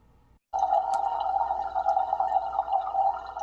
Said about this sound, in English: So these are multiple water clocks in one room, and they're all mic'd with contact mics